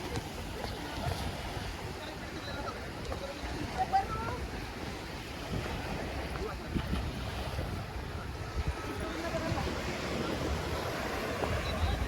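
Surf washing onto Marwanthe beach's rocky shore, a steady broadband wash of breaking waves with wind buffeting the microphone, continuous and fairly close throughout.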